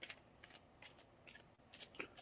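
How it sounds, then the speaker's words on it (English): Stack of photos given an overhand shuffle, producing a run of soft, papery flicks and brushing bursts in a loose rhythm, close and fairly quiet. "let's give these an overhand shuffle"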